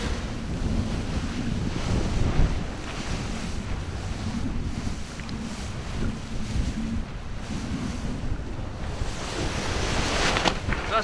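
Steady rush of wind, about 12 to 14 knots, and breaking waves on the open sea during a sailing race, a constant broadband roar with low rumble, no voices, continuing evenly throughout.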